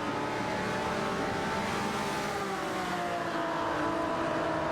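Race cars in a video game, a Ford Falcon XB GT and a Lamborghini Jarama S, roar in a close fight, their engines a dense, steady, loud drone with overlapping revving tones throughout.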